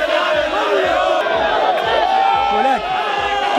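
Football fans at a Série D final, many of whom traveled from Natal, chant and cheer in a dense, rhythmic crowd roar that is close and sustained, with voices rising and falling throughout.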